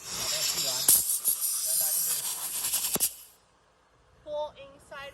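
Compressed air hisses loudly from an air compressor tube as it is connected to a semi-automatic twin cartridge sticker labeling machine, a few seconds of steady rushing with sharp clicks, then quiet with faint clatter.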